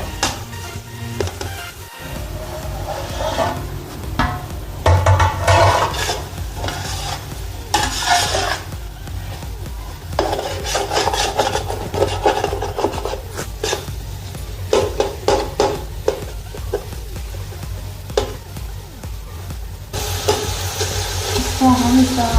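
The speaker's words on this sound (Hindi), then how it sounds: "इसको हम भुनाई तक चलाते रहेंगे, ताकि ये अच्छे से भुने" Soft bottle gourd pieces fry in a pan for lauki bhujia, stirred continuously so a loud, dense sizzle runs under repeated scraping and clinks of a utensil against the pan.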